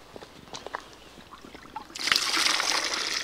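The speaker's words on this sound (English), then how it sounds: "If I tip this out and it falls into the bucket and onto the dirt" Dirty laundry water from a camping washing machine tipped out into a bucket, a quiet trickle rising into a steady splashing pour over the last second or so, close by.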